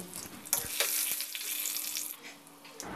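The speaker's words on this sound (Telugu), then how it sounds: "2 రెమ్మల కరివేపాకుని అలాగే 1/2 స్పూన్ ఇంగువని వేసుకొని ఫ్రై చేసుకోవాలి." Curry leaves, asafoetida and garlic tempering in hot oil give a loud, steady sizzle with spattering crackles, fading off toward the end.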